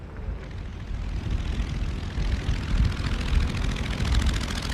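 Early Wright Military Flyer, its engine and propeller droning steadily in a loud, continuous low rumble with a faint rhythmic flutter, building slightly in strength over a few seconds, no voices.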